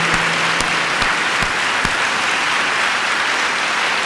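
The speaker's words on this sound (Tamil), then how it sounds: "கைகளை பலமாக தட்டி வரவேறுங்கள்" A church congregation claps loudly in welcome during a Tamil worship service, a steady dense wash of applause with a few sharper thumps, continuous throughout and fairly close.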